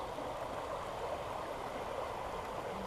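A shallow park stream full of fish flows in a steady, even rush of water, moderately close, with no voices.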